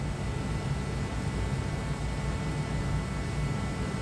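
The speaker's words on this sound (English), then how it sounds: "Sorry about the noise, but I had to turn the heater on." A space heater runs in a workshop with a steady, broadband fan-like roar that holds constant and fairly loud throughout, with no voices.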